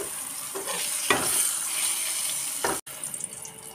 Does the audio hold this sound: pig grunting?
no